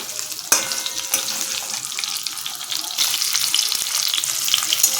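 Paneer frying in hot oil during vegetarian biryani cooking, a steady close sizzle with a few sharp crackles and stirring scrapes, rising slightly louder toward the end.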